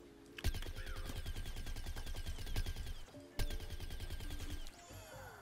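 Rapid gunfire in the online shooter Plants vs. Zombies Garden Warfare, a dense, steady stream of close shots running almost continuously with two sharp louder bursts and brief gaps, game effects layered underneath.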